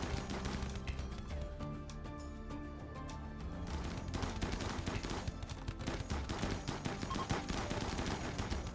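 Rapid gunfire in the video game Iceberg, dense bursts of automatic shots over a steady backdrop of game sound and music, loud and continuous throughout.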